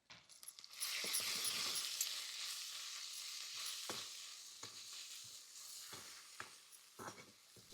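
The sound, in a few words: sautéing green chili, peanut powder, salt and turmeric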